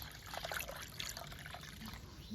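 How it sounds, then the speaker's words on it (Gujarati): Water being poured out for goats to drink in hot sun, a steady trickling and splashing stream of liquid running continuously at close range, with faint background noise and no clear speech. "આપણી શેકલાનું પાણી પીવા હાટું ભરેલીએ"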